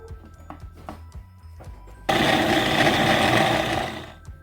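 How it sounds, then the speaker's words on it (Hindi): An electric food chopper minces minced meat for Turkish Adana kebab, a loud steady motor whir with a dense blade roar. It starts abruptly after some quiet clinks and handling knocks, then holds and fades slightly. "मैंने कीमे को अच्छी तरह से मैंने चॉपर में डाल के इसे अच्छी तरह से मिक्स कर लिया है"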